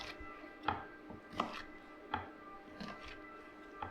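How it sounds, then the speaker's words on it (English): A knife chops through prawns on a cutting board while preparing seafood pasta, giving five or six crisp, evenly spaced cuts about two-thirds of a second apart, fairly quiet and close with no talking. "I like to cut it into 3 pieces."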